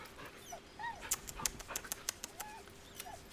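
Scratch the dog in the Baldur's Gate 3 video game whimpers and yips in short, high, rising whines, several soft cries spread across a few seconds with light clicks and faint game sounds around them.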